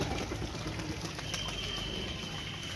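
Two pigeons flutter and beat their wings in a brief burst of flapping as they are released to fly, with soft cooing and steady background noise.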